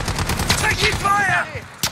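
Rapid bursts of gunfire in a Call of Duty Modern Warfare bomb-squad co-op mission, loud and close, sharp repeated shots for about two seconds with game chatter and tones mixed in.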